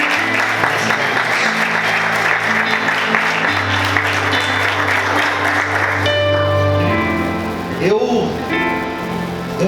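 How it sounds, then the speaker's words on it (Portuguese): Loud, sustained applause from a church congregation with music playing underneath, tapering off near the end. "Aplauda o Senhor bem forte"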